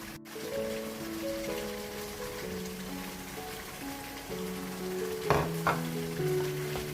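Spice masala with ginger and yogurt fries and is stirred in a pan for Shinwari chicken, a soft steady sizzle with a couple of louder spoon scrapes near the end and a background tone that shifts pitch.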